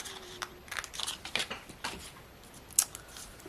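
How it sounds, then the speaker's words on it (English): Faint, sparse snips of scissors cutting paper come close by and quiet, a few short crisp cuts spaced irregularly with a brighter snip near the end. "and then I can cut off the top"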